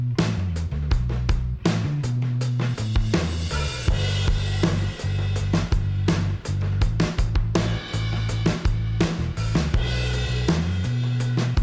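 Drums and bass tracked together for a song: a steady, driving kick-and-snare beat with crashing cymbals over a deep, moving bass line, loud and continuous with no talking.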